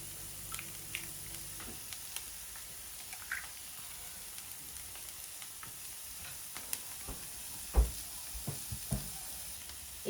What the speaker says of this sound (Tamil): இப்போ விட்ட இந்த எண்ணெய்க்குள்ள நான் என்ன செய்ய போறேன்னா, இந்த எடுத்து வச்சிருக்கிற இந்த முட்டையை விட்டு வதக்க போறேன்.